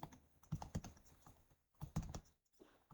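Computer keyboard typing in two short bursts of quick clicks separated by a brief pause, faint and close with no voices.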